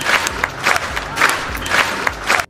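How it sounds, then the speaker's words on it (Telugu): A crowd applauding and cheering in repeated swells, with low rhythmic thumps under the clapping. It is moderately loud and cuts off abruptly at the end. "అందరు చప్పట్లు కొట్టండి"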